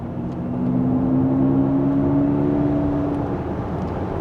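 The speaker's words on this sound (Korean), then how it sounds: "비비드 플럭스라는 사운드예요." Synthetic electric driving sound called Vivid Flux from a Mercedes-Benz EQS 450+ AMG Line, a steady tonal hum with layered sustained pitches that swell slightly and hold, heard alone at moderate level.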